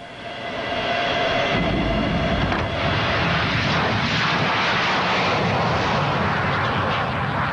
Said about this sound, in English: the Ouragan took to the air in its historic first flight